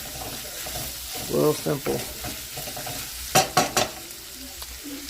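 About a pound of chorizo sizzles and fries in a pan, with a few sharp scraping stirs of a utensil punctuating the steady crackle; a voice speaks briefly.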